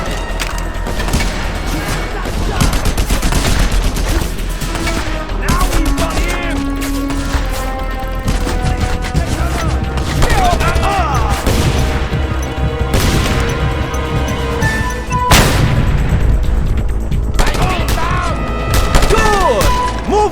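Mounted-gun fire and explosions in a Just Cause 2 battle, loud and continuous with dense bursts, crashes and booms layered over music throughout.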